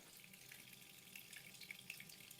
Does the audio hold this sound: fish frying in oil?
no